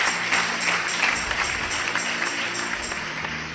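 A church congregation at a Spanish-language sermon breaks into applause, a dense, sustained clapping with crowd noise that fades slightly toward the end, without any voice over it.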